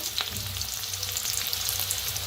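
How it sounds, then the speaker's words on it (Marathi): Onion hitting hot oil in a pan while cooking a spiced curry, giving a steady, loud crackling sizzle that stays even throughout with no talk. "तर तेल चांगलं गरम झालेलं आहे त्याच्यात टाकूया कांदा"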